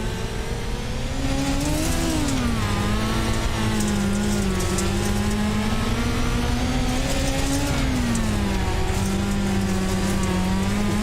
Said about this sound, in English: listen to the engine once more.